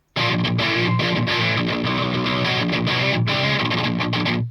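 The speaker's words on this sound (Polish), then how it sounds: "drugi klip rozpoczyna się niezbyt przesterowaną gitarą" A mildly overdriven electric guitar through a mid-gain Tonex amp profile plays a steady, dense chordal part alone, loud and sustained with no talking.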